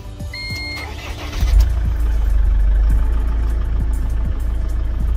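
An Iveco Daily van engine turns over and settles into a steady, loud idle with a low rumble and faint rhythmic ticking, no voices.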